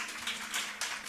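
Children at a Sunday junior church gathering give a short burst of applause, soft and somewhat distant, a few quick swells of clapping with no voices.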